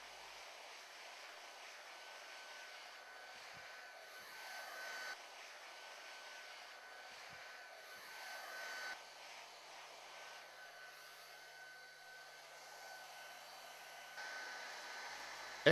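A hot-air tool heating a molded cable transition part during adhesive installation blows a steady, fairly quiet airy whoosh that swells and eases in gentle waves, with no talking.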